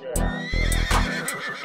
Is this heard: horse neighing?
yes